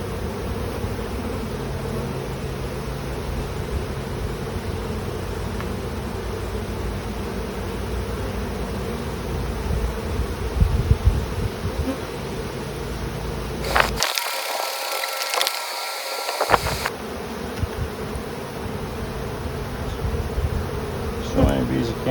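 Dense buzzing of many honey bees fills a September hive inspection, loud and continuous up close, with a few wooden knocks and handling noises mixed in.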